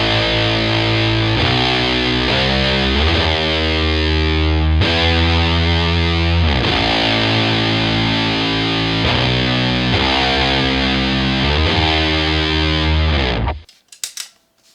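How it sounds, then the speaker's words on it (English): An electric guitar plays heavily distorted overdriven chords, sustained and changing in a steady progression, loud and alone until the final notes cut off. "This is the only part where I use the overdrive distortion setting, so it sounds like this."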